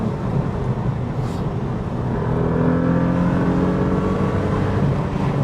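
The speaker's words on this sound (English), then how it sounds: "You can literally hear the air being sucked into the engine." Inside the cabin of a Renault Clio V6, the engine drones and revs, with a steady intake rush and rising, near and loud, and no talking.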